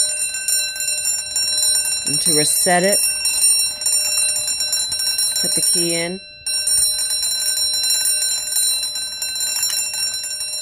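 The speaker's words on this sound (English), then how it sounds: "Now the bell's ringing," Continuous electric fire alarm bell on a FireLite BG-8 pull station rings loudly throughout, a steady metallic clangor with a brief dropout near the end, while someone talks over it.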